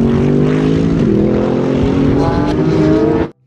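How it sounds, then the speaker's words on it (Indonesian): A toy Lamborghini race car produces a steady, loud droning engine whine that holds for about three seconds before stopping abruptly. "Mobil balap Lamborghini."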